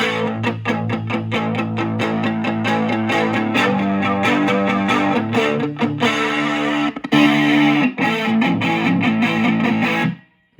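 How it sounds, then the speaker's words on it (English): A high-gain electric guitar plays chugging riffs through a flanger effect on a Fender Champion 20 amp, loud and sweeping, stopping abruptly near the end. "So flanger sounds pretty cool with like heavier gain stuff"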